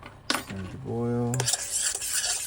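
A spoon scrapes and stirs a homemade rat, ant and termite poison mixture in a metal pot, producing a brief ringing, squeaky metallic scrape followed by softer stirring, close with no talking.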